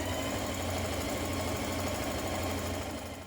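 A sewing machine runs continuously at steady speed, stitching gathering lines on a child's dress skirt, its close, rapid mechanical hum and needle clatter unbroken throughout.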